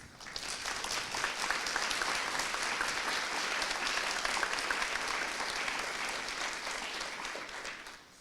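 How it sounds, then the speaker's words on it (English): Audience at an awards ceremony applauding standing high school students, a full, sustained round of many hands that swells quickly, holds steady and dense for several seconds, then tapers at the end. "please stand so we can give you another a round of applause"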